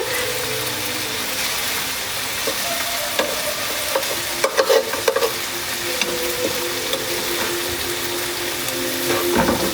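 Food sizzles steadily in a pan in a home kitchen while a utensil stirs it, with occasional scrapes and clinks against the pan over the constant frying hiss.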